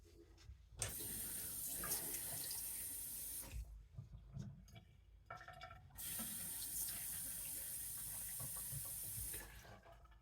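Tap water runs in a steady hissing stream as print head channels are rinsed, cutting off briefly twice for a few seconds before the flow resumes, close and fairly loud.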